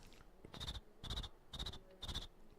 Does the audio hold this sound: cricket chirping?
yes